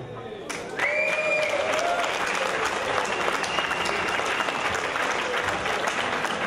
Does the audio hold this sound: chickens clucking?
no